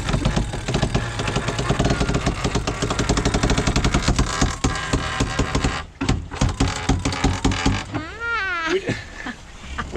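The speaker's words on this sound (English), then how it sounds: "haul it on. To get my turns on nice and quick before it loads up, and I'll let the winch do the work" Sailboat winch hauling in the sheet during a tack, a rapid ratcheting clatter over a steady mechanical drone, loud and close, easing off near the end as a whining pitch sweeps up and down.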